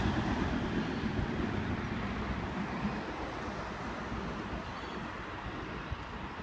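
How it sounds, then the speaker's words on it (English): A Sydney Trains Endeavour railcar rolls past a platform at Glenfield, a steady broad rumble that is loudest at first and gradually eases as it moves on. "We have an Endeavour passing platform 4."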